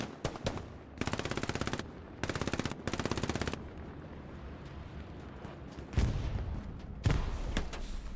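Gunfire in the World War II shooter Hell Let Loose, set in Stalingrad: three sustained machine-gun bursts in quick succession, followed by a rumbling battlefield backdrop with a couple of heavier booms, no talking.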